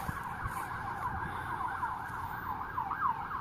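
Emergency vehicle sirens passing at a distance, a steady wailing tone rising and falling under faint background street rumble, fairly quiet and without talk.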